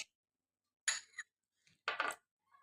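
Clean bowl set down on a hard surface for mixing tomato and potato juice, two brief soft ceramic clinks separated by silence, nearby and faint.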